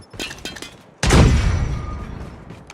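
A frag grenade detonates in a Call of Duty match: a few faint clicks and shots lead into one loud, sudden boom that rumbles and slowly decays.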